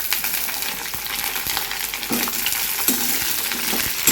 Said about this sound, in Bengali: এখন দিয়ে দেব পেঁয়াজগুলি।